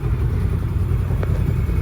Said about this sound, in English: twin cylinder engine because it got a lot more depth to it and a lot more power